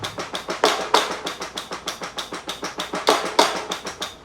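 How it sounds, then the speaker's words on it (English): Soloed percussion recorded on a snare drum, a fast run of crisp, dry hits in a steady driving rhythm with periodic louder accents, close and alone. "These were recorded with Timmy's snare."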